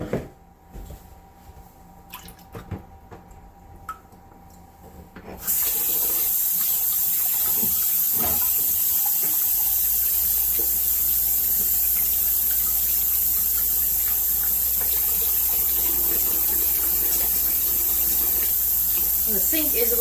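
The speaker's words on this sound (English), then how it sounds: "But you can hear the water running." Kitchen sink tap running steadily just out of sight, a constant close hiss of water that kicks in after a few seconds of quieter clatter.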